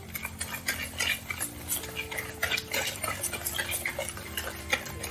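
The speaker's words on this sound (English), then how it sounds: "And just mix it in." A utensil stirs an egg into brownie batter in a bowl, giving close, quick taps and clinks against the bowl side in an uneven rhythm.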